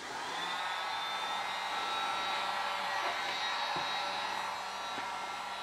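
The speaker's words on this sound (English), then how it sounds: "We'll use a heat gun." Steady, breathy whirring of a heat gun blowing hot air continuously, fairly faint, with no talking.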